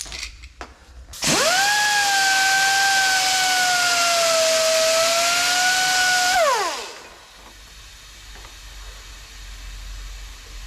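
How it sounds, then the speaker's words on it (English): A belt sander grinds down a steel piece for a Vauxhall Corsa VXR tailgate. It makes a loud, steady whining grind for about five seconds, then spins down with a falling whine into quiet workshop background. "so I'm trying to grind it down with a belt sander."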